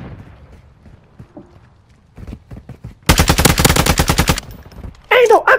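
Bursts of rapid automatic gunfire from the video game Call of Duty Modern Warfare, first faint scattered shots, then a loud sustained volley lasting over a second and a final short burst near the end.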